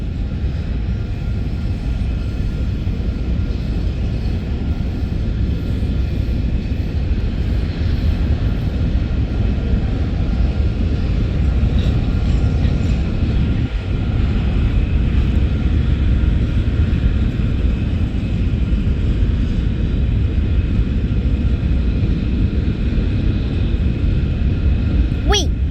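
A passing train gives a steady, loud, broadband rumble that holds at a constant level throughout, with no clear horn or clatter rising above the continuous roar.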